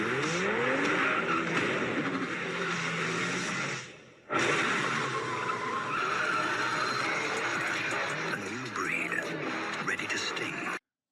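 Aggressive, high-risk driving in a car commercial: a continuous loud engine roar with tire squeal and skid sweeps, cutting out briefly midway before resuming at full intensity until an abrupt stop.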